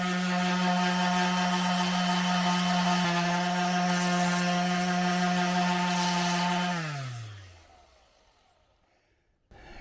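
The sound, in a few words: sanding a wooden camera mount with a power sander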